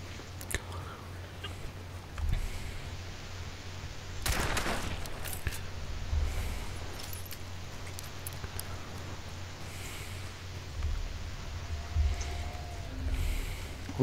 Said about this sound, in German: ich höre auch schon wieder Rumgeballer.